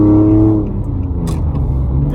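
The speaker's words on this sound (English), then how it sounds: "Well, there's a lot of traffic out here." Steady car engine hum from inside a vehicle moving through heavy traffic, a low rumble that eases slightly after the first half second, with faint road noise and no voices.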